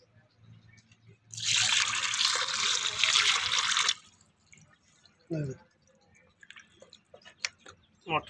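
Mutton pieces being washed in water: a loud rushing splash of running water for a few seconds, then quieter scattered drips, sloshes and handling noises nearby, with a brief voice.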